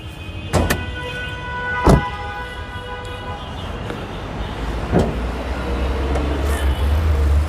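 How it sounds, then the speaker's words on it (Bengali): Idling engine of a Toyota Premio sedan fitted with a BB engine, heard up close as a steady low hum with the bonnet open, broken by a few sharp knocks and clicks. "এই দেখেন গাড়িটি কিন্তু স্টার্ট অবস্থায় আছে। দেখেন ইঞ্জিনের সাউন্ডটা দেখেন একবারে স্মুথ।"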